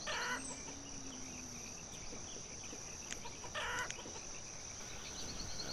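Chickens cluck and a rooster briefly sounds in the village-building game Banished, soft and intermittent over a constant ambient bed with a faint high tone.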